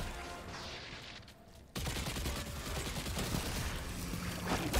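Arc pulse rifle gunfire in Destiny 2 during a Perdition legend lost sector, a dense, continuous rattle of shots that starts abruptly partway through and stays loud to the end, layered with game effects.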